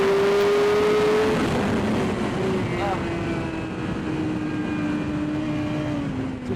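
A racing motorcycle on Bridgestone Battlax V02 slicks at speed on a track, a loud sustained engine drone with a steady high whine and rushing wind throughout, shifting slightly in pitch as the rider leans.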